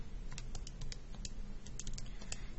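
Calculator buttons are pressed in quick succession to enter an inverse matrix, a dozen or so light plastic clicks in an irregular rhythm, close and quiet.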